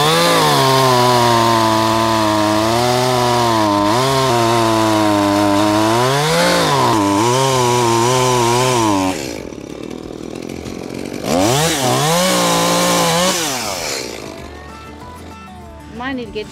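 A chainsaw cuts wood on muddy ground during DIY land clearing, its engine loud and close with rising and falling pitch as it bogs into the cut, a brief idle dip midway, then revving again.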